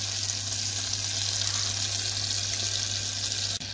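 Butter melts in a pan with a steady, even sizzle close by that carries on without a break, and no voices join it.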